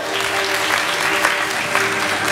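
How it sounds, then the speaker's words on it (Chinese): A live audience at a fan meeting bursts into sustained, dense applause that fills the room evenly for a couple of seconds. "掌声给我们的阿伟哦"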